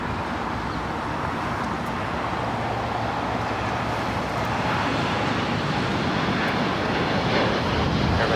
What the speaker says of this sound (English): Flight 7, taking off to Papaete on the 787-9 Dreamliner.